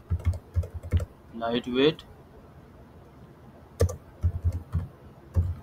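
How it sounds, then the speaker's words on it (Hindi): Bursts of computer keyboard typing clatter close by, quick soft key clicks in short clusters separated by pauses, with someone briefly speaking between the runs. "लेट सपोज मैं यहाँ पे टाइप कर देता हूँ लाइट"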